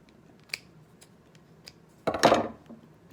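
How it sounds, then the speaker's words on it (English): Sharp scissors snipping through yarn, with a few faint clicks of the blades and then one loud, close crunching cut near the end. "you just go in along this edge and go ahead and cut that yarn all the way apart there"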